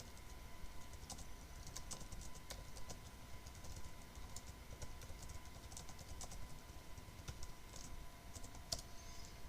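Rapid, uneven typing on a computer keyboard in a room with a steady low background hum, the key clicks fairly close and continuous, no voices heard.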